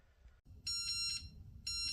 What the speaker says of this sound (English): you hear that little beeping sound?